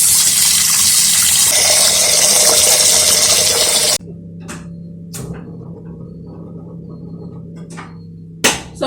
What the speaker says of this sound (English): may I get some water into this